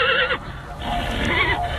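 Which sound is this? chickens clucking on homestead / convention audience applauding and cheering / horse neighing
horse neighing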